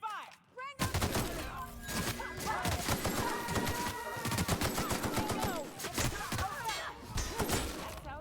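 Gunfire in The Outer Worlds video game, dense rapid automatic shots and impacts crackling almost without pause, with game music and voices running underneath.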